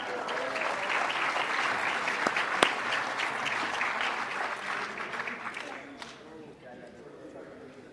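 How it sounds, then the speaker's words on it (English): An audience at a winter sports awards ceremony applauds student athletes, a lively, sustained round of clapping with a few sharp louder claps, gradually thinning out and fading near the end while voices chatter underneath. "Please join me in one more round of applause for them"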